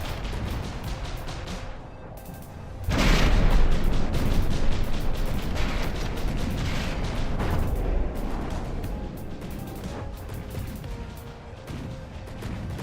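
Rapid gunfire from small turrets shooting down incoming missiles in the naval combat game From The Depths, a dense roaring barrage that swells abruptly and rumbles on with heavy bursts.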